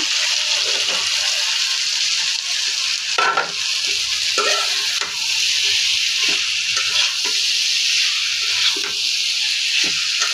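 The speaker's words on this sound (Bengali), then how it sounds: "কলার মোচাটা দিয়ে দেব, দিয়ে ভালোভাবে কষিয়ে নেব" Chopped banana flower and potato sizzle and fry in a pan, with a steady loud hiss and occasional scraping stirs of a spatula throughout.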